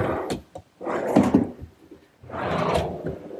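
Drawer boxes run out and back on full extension slides in a hutch built in a woodworking shop, giving three separate rolling, rumbling slides with short quiet gaps between them.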